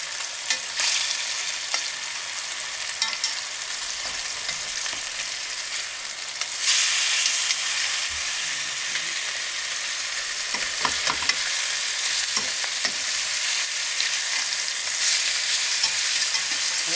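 Fish searing in a hot pan, a loud, steady sizzle heard close for a long stretch, swelling brighter partway through, with occasional light clicks of a utensil and no talking.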